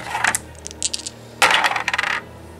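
A handful of dice roll on a Warhammer 40k gaming table, two separate bursts of clicking and clattering close by, each rattling briefly before coming to rest, with no voices.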